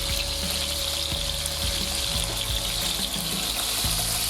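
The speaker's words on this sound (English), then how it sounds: "Deglaze the pan with some water." Water poured into a hot pan after browning Toulouse sausages to deglaze it, a steady close pouring and trickling sound with faint bubbling, without speech.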